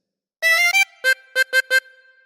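A harmonica sounds a phrase of This Old Man, opening with a longer sustained note, then a brief one and four short detached notes, up close with nothing else heard.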